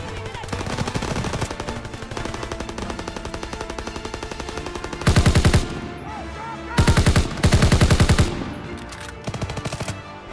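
Rapid bursts of automatic gunfire in the World War II shooter Call of Duty WW2, loud and close, with intense clusters of repeated shots around mid-clip and game voices faintly underneath.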